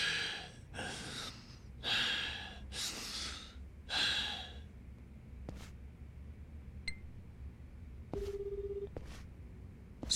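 In a Like a Dragon Gaiden cutscene, heavy gasping breaths come first, then a few sparse phone keypad beeps and a steady electronic tone as a call is dialed.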